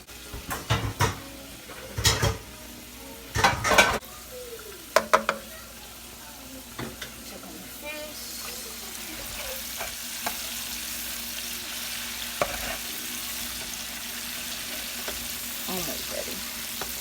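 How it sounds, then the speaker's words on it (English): Swai fish fillets fry in hot oil. A few loud knocks and pan clatters come first, then a steady, close hiss of sizzling runs on with occasional faint clicks and no talk. "And we have 2 more left to fry."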